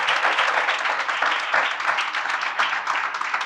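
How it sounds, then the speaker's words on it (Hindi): A church congregation claps in welcome, a close, lively burst of applause with uneven rhythm that carries on steadily for a few seconds without talk. "आप इनकी तालियों की आवाज को सुन सकते हैं,"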